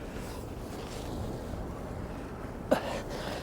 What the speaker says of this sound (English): It's difficult because that wind's such a strong side wind.